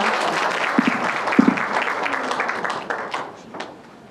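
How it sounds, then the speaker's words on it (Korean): An audience at a hospital health lecture on aortic surgery nursing applauds warmly, the clapping steady at first and then thinning and fading over about four seconds. "큰 박수 부탁드리겠습니다."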